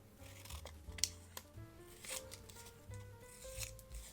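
Scissors snip through paper while cutting out a piece for a collage, several short quiet crisp cuts and rustles spaced irregularly, close up and faint, without talk.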